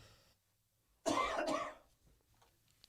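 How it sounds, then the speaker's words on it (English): A single short cough, close and fairly loud, breaks a near-silent background and fades quickly into quiet. "Can I get a cough button, Jordan?"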